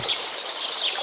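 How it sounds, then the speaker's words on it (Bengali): Cartoon birds chirp in a short morning scene, a few light high tweets over a soft bed of ambient noise, moderately loud and with no voices. "গাছে গাছে আবার পাখি ডাকছে"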